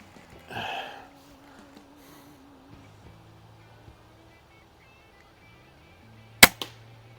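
A Winchester 425 air rifle fires a single sharp shot outdoors near the end, a crisp crack following an earlier soft breath and low background hum.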